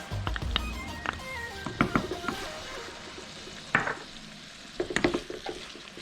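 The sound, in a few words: carrots, tomatoes and thyme sizzling as they're stir-fried in a pan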